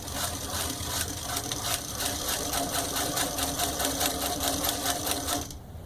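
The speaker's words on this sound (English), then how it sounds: "We have a servo control motor so you can go nice and slow." A Pfaff 561 needle-feed industrial sewing machine with a servo motor stitches at a steady, even pace, its needle tapping in a rapid regular rhythm over a motor hum, stopping just before the end.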